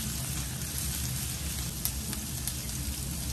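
Chopped onions frying in a pan while being stirred for a chana and moong breakfast dish give a steady, close, rain-like sizzle that runs throughout with a few faint crackles and no talk.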